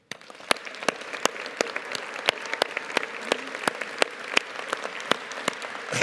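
Graduates at a business school graduation ceremony receive applause from the audience. The clapping is steady and fairly close, with distinct individual sharp claps standing out above the dense wash of hands for the whole stretch.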